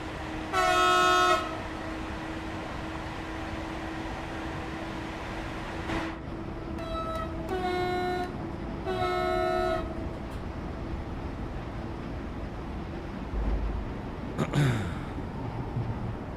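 Freight train running in Train Sim World 4, with a steady low engine drone throughout, several sharp horn toots early and midway, and a faint rising whine near the end.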